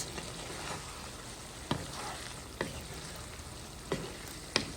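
Chicken liver and green chilies fry in a pan with a steady, even sizzle, broken by a few soft stirring clicks at irregular intervals.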